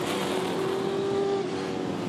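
V8 Supercars slide sideways in unison at Eastern Creek, their engines giving a continuous loud, droning roar from a distance with a sustained tonal whine and no break.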